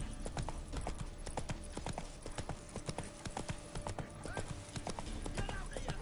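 Roach the horse galloping in The Witcher 3, a rapid run of hoofbeats in quick uneven clusters, fairly faint, with voices heard over it.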